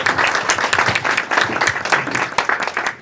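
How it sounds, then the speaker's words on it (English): An audience at a school declamation contest claps in a loud, lively round, the claps closely packed and slightly uneven in strength throughout. "So guys, can you give a big round of applause?"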